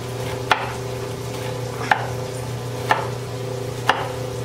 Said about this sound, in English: Okay, and then I'll just chop it up this way.